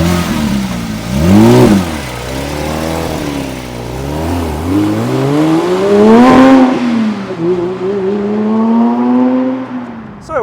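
A Porsche 911 GT3 Touring engine revs hard through several rising, howling sweeps, loud and close, each climb dropping back before the next surge, with no speech over it.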